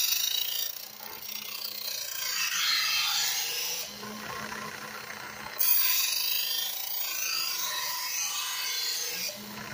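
A kitchen knife drawn repeatedly through a hand-held manual sharpener, giving rasping, scraping strokes in a steady rhythm with short pauses between passes, close and moderately loud.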